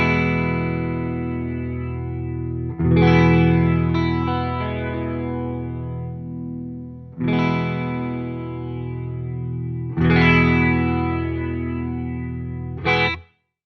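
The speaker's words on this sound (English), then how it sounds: "with hardly any feedback, low width, and a bit of high pass, and a roughly even split of wet and dry, you can achieve some great automatic double tracking sounds" Sustained strummed guitar chords through a Pyramids stereo flanger set for automatic double tracking, with low feedback and width, light high-pass and an even wet/dry mix. Four chords ring out in turn with a wide, doubled shimmer and no talk over them.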